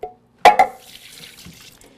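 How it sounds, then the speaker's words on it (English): Water running from a kitchen tap while hands are washed, starting with a sharp splash and then settling into a soft, steady trickle close by. "Wash my hands."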